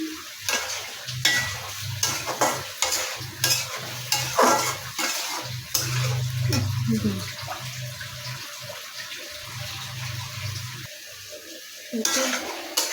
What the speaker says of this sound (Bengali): সবজিগুলো কষানো হয়ে গিয়েছে এখন টমেটো দিয়ে দিব এই টমেটো দিয়ে দিচ্ছি